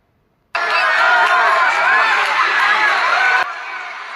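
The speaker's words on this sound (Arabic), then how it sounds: "شوفوا كيفاش استقبلوهم الجماهير المغربية في مدينة الرباط" Large crowd of Moroccan fans in Rabat welcoming the national team at night, a sudden loud wall of cheering, shouting and chatter that stays dense and sustained before dropping back slightly near the end.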